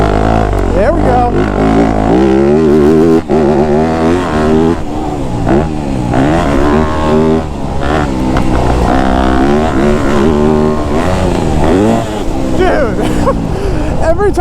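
A motorcycle taken over jumps revs hard and continuously, its engine pitch climbing and dropping with each throttle blip, heard close and loud with strong wind buffeting throughout.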